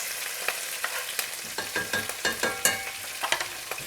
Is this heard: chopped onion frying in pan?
yes